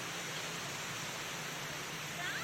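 Water rushes over the Anantagiri waterfalls in Araku as a steady, even hiss that stays quiet and distant with no break and no voices.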